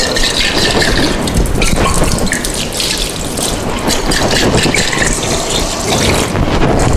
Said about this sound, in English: wash with the tap water, thoroughly with the tap water